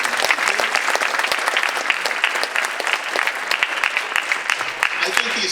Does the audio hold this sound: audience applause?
yes